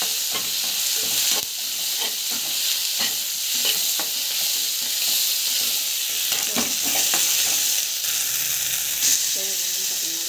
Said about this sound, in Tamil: சரி வந்து பார்த்திங்கன்னா நல்லா வந்து வதங்கணும். சரி வதக்கணும்.